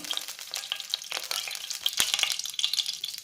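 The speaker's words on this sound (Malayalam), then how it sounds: "കടുക് പൊട്ടിക്കണം." Mustard seeds spluttering in hot oil in a pan, a close, busy crackle of rapid pops and sharp snaps over a frying hiss, no voices.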